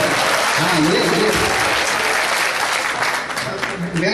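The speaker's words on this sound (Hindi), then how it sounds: "फिर आगे से पीछे तक तालियां मिलनी चाहिए" A crowd at a poetry recital and mushaira breaks into long, steady applause, many hands clapping loudly from start to finish with some voices mixed in underneath.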